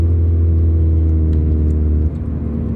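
A loud car engine runs close by, a deep steady rumble with strong low harmonics and a slight drop in pitch near the end, no voices.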